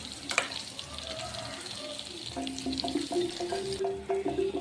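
Stuffed brinjal fries quietly in a pan, giving a soft, steady sizzle with light stirring clinks and brief voices in the background.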